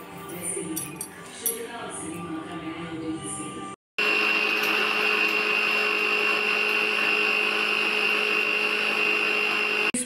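Kitchen blender grinding Oreo biscuits into powder for a chocolate milkshake, a steady loud high-pitched motor whine after a few clinks and a brief pause, running continuously and close.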